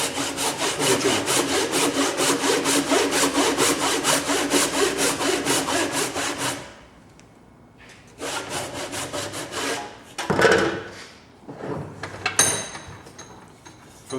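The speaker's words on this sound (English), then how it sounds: "you can put your tenon saw in. That will now follow the cuts that you've made" A tenon saw cuts timber for a dovetail halving joint in steady, rhythmic back-and-forth strokes for several seconds. Short bursts of sawing, scraping and a few light knocks and clinks follow between pauses.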